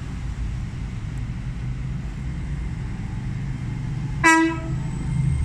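A Great Western Railway Class 800 train sounds a short two-note horn tone at Stroud station, clear and fairly close, rising above a low steady rumble of the idling train.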